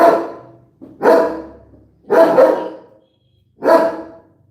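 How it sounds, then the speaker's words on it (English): A pet dog named Jake barks in four sharp, loud bursts, each a harmonic yelp with a short tail, spaced by brief pauses, close to the listener with no other sounds. "Sorry about that, my dog."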